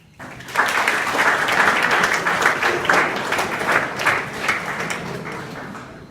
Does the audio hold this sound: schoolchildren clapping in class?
yes